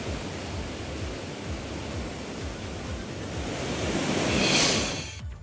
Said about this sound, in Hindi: बारिश की वजह से अलकनंदा नदी उफान पर है।